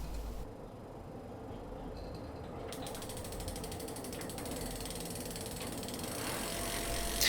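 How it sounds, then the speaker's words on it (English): A home-built e-bike's hub motor spins at full throttle with its wheel off the ground, a quiet mechanical whirr with ratcheting clicks. The brake lever cuts power and the tone shifts abruptly partway through. "I just cranked the throttle to max and play with brake lever."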